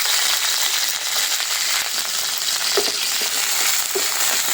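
Garlic and chili frying in hot oil, a dense, steady, close sizzle with occasional faint clinks of a utensil, no voices.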